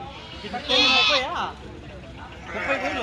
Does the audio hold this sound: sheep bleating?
yes